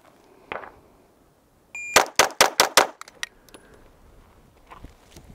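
A Glock 19 pistol fires a quick string of about six sharp, loud shots on a timed shooting run, closely spaced, followed by fainter scattered clinks and a short electronic beep.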